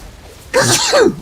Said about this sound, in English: Oh, I've got a sneeze coming on.